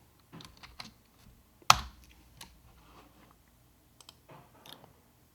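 Clicks of a computer keyboard as a short message is typed on a Windows PC, sparse irregular keystrokes with one sharp louder tap, close and alone.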